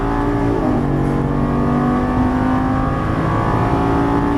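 A Lamborghini Gallardo LP550 on a racing track accelerates hard, its engine note rising in pitch and dipping as it shifts up, then climbing again; loud, close, continuous engine roar from inside the car.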